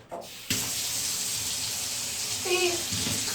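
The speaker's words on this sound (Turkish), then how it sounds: "Saçlarını yıkayacağız." A tap pours water at home for washing hair before dyeing it blue, a steady close hiss of running water that begins abruptly after a brief sound and continues evenly, with a short voice-like sound partway through.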